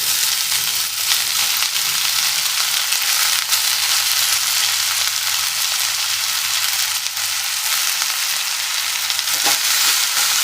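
Garlic and green chilli frying in hot oil for fenugreek sabzi, a steady bright sizzle that runs loud and unbroken throughout.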